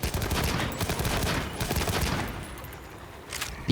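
Rapid, continuous bursts from a Light Bowgun in energy mode in the video game Monster Hunter Wilds, dense overlapping shots firing loud and close for several seconds, easing slightly before a final punchy burst, with no talking.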